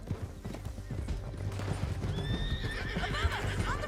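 A horse in the Red Dead Redemption video game trots with rhythmic clip-clopping hooves, and then a loud whinnying neigh rises over the hoofbeats, close and clear, with faint background voices.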